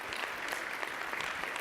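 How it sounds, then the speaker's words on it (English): A brief burst of crowd clapping at a motivational talk on championship team attitude, even and moderately loud, with no voices over it. "Give a round of applause."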